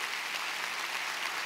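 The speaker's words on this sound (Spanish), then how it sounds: "Denle un aplauso al Rey bendito." Congregation applause at a pastors' retreat church service in San Pedro Sula, Honduras: a brief, even wash of many hands clapping, steady and fairly loud throughout, with no speech over it.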